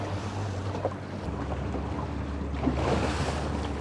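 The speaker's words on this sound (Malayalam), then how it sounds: "ബോട്ട് മുന്നോട്ട് നീങ്ങി തുടങ്ങി." A boat moves out on the sea at Yiti beach in Oman, its engine droning low beneath rushing wind and water noise, close and steady.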